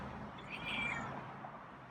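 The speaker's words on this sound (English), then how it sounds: "Yeah, it's a raspy meow purr." A feral cat gives a soft, raspy meow that rises briefly over a steady outdoor background hiss, fairly close and not loud.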